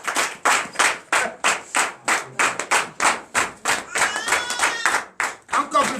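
Congregation clapping together in church, a loud, steady rhythmic beat of about three claps per second that continues throughout, with some voices cheering underneath.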